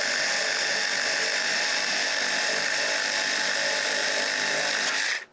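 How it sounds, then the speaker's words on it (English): A flexible ratchet spins out the bolts holding a car headlight in place, giving a steady, loud whirring drone for about five seconds before it cuts off abruptly. "Now I'm just gonna take the rest of the bolts out."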